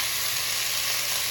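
Emu meat searing in an oiled pan, a steady close, loud sizzle with no pauses and no talk.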